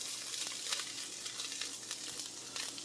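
Onion with baby carrots sizzling in a pan, a steady close crackle with irregular little pops and bursts of spatter throughout.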